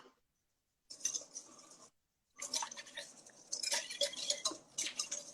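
Whisking a sabayon in a bowl makes rapid, close scratchy metal-on-bowl strokes in bursts, with a short pause before a longer continuous run of brisk whisking.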